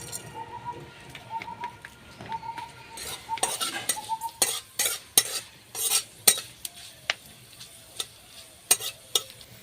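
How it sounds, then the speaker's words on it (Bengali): Dry red chillies and panch phoron spices crackle in hot oil in a kadai, with a spoon stirring and clinking against the pan in a run of sharp scrapes and pops. "তারপর দুটো শুকনো লঙ্কা আমি তেলের উপর ছেড়ে দিচ্ছি তারপর পরিমাণ মতো আমি পাঁচ ফোড়ন দিয়ে দিলাম"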